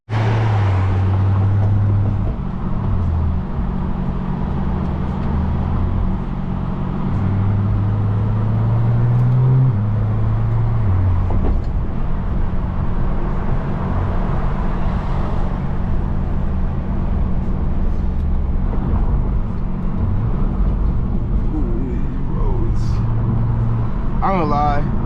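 A BMW F10 sedan cruises city streets in New York at night, its steady engine and road rumble heard from inside the cabin, with low engine tones shifting as it accelerates and a voice talking over parts of it.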